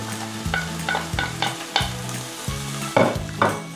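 Tomatoes and carrots fry in a heated pan over a lowered gas flame, a close sizzle broken by repeated stirring scrapes and clatters at a steady rhythm, no talking.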